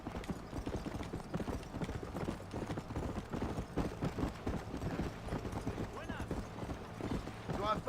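A horse gallops in the Western video game Red Dead Redemption, its hooves beating a steady, rapid clip-clop rhythm at close range, with game sounds and faint voices underneath.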